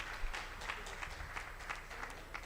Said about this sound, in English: you can clap for the South African pilots